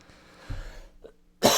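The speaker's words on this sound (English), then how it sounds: "I don't want to blow people's eardrums by coughing on the microphone" A person coughs close to a microphone, with a soft low cough early on and then a single sharp, loud burst at the end.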